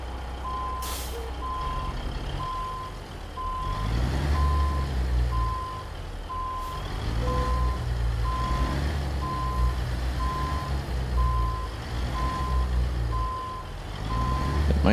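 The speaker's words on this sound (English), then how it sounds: "Let's get our window down and do some reversing." Heavy log truck in American Truck Simulator reversing, a steady evenly spaced backup beeper repeating throughout over a low diesel rumble and occasional air-brake hiss, with no talk.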